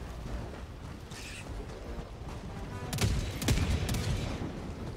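Muffled gunfire from an auto turret in Helldivers 2 against Terminids rattles in short bursts at a distance, growing denser and louder midway, with sharp cracks layered over ambient game noise.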